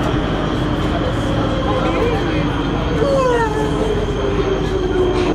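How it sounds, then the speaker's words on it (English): A Prague metro train in an underground station: a steady, loud rumble of cars rolling along the track, with rising and falling wheel squeals, under a faint murmur of crowd voices. "We gotta go to the metro."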